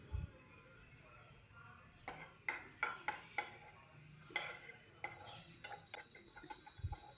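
Egg masala with coriander being stirred in a pan, with a quiet simmering sizzle behind a series of sharp spoon scrapes and clinks against the pan in an uneven rhythm.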